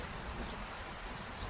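Soft, steady rainfall makes a faint, even wash of patter with no gaps and no one speaking.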